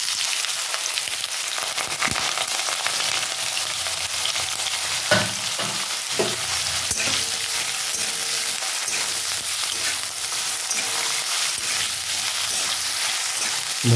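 Potatoes and bottle gourd peel fry in oil seasoned with kalo jeere (nigella seeds), producing a loud, continuous close-up sizzle with occasional scraping stirs and no speech.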